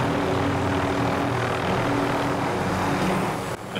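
Helicopter in Call of Duty: Modern Warfare, a steady droning rotor and engine hum holding loud and even for nearly the whole stretch before it dips briefly near the end.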